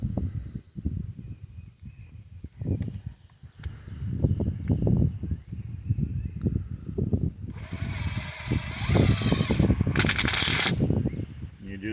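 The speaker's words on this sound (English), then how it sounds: "we'll just run the self-tapping screw right through the pipe here" A power driver runs a self-tapping screw through a plastic pipe for a step-in brace, with bursts of whirring and grinding, handling clatter between, and a louder sustained whine near the end.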